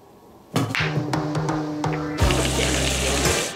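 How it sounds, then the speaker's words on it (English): After a quiet moment, shower water bursts on and sprays in a steady broad hiss, then shifts to a heavier, louder flow partway through. "It's a nice shower."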